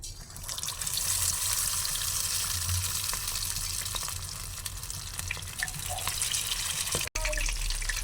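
Chicken 65 pieces frying in hot oil give a steady, dense sizzle and crackle that holds loud and close throughout, broken by one brief cut-out near the end.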